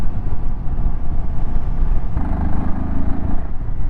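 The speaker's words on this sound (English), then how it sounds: "Like the sound of the single cylinder." A Royal Enfield Himalayan 450 single-cylinder motorcycle engine rumbles loudly and close, with a low pulsing throb that shifts slightly in tone partway through, alone without talk.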